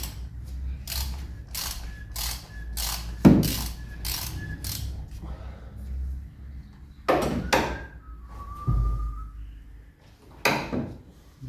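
Ratchet clicking in quick bursts while loosening the oil filter on an Opel Corsa D during an oil change, with occasional metallic knocks and tool clanks between runs, close and moderately loud in a quiet workspace.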